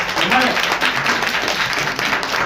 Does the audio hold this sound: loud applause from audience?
yes